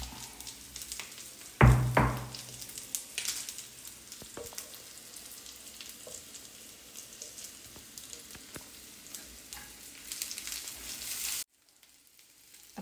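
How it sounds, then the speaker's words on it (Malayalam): Mussels dry-frying in a pan with spices give off a continuous crackling sizzle, with a sharp burst of spattering early on and a few stirring clatters, before the sound cuts out at the end. "കല്ലുമക്ക ഇങ്ങനെ പൊരിഞ്ഞ് വരുമ്പോൾ"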